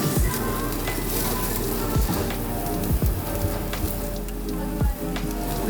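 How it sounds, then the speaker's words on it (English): Meat and onions sizzle on a grill at a Tokyo barbecue meal, a steady close crackle with a few sharp pops and no talking. "A bit of onions in there, you know, to grill."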